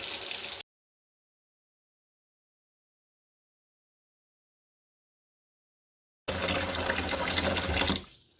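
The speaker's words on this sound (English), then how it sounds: "what we'll do is we'll fill the sink up" Kitchen sink filling from the tap during a leak check, a steady loud rush of running water at close range that starts after a long silent gap and runs to the end, with no talking.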